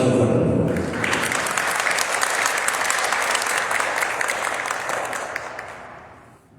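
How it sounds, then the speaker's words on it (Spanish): An audience at a conference in the Municipal Palace of Querétaro breaks into loud, dense applause that holds steady for several seconds and then gradually fades away. "Aplausos fuertes, por favor."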